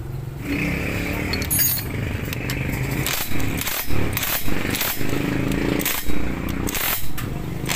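An impact wrench works a broken stud out of a Suzuki Raider 150 motorcycle engine: a loud, steady mechanical buzz with repeated hammering bursts roughly every second, close up and continuous throughout.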